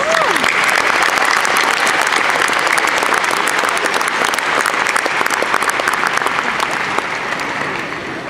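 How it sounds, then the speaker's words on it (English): A large audience claps steadily, a dense continuous wash of applause that holds strong and tapers slightly at the end. "Please give them a warm round of applause."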